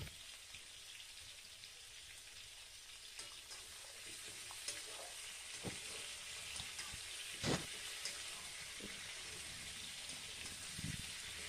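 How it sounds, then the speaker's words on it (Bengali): Potatoes fry in hot oil for a Bengali mutton and potato curry, with a steady, even sizzle throughout. Occasional stirring clinks and scrapes break through, including one sharper knock near the middle. "এবার এগুলোকে আমি লাল লাল করে ভেজে নেব।"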